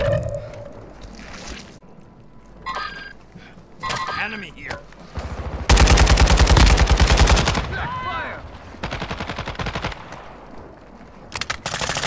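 Machine gun fire in Call of Duty, heard as loud, dense bursts of rapid shots, with one long sustained burst near the middle and shorter volleys around it, mixed with shouted game voices and player talk.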